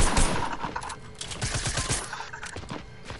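SMG fire in a PS4 shooter game: rapid bursts of automatic shots, moderately loud, rattling on and off through a few seconds with short gaps between volleys.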